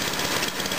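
A snowthrower engine idling with no load on it, a steady, loud mechanical drone with a faint uneven pulse running through a brief stretch with no voices.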